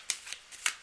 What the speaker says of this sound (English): Cards are shuffled.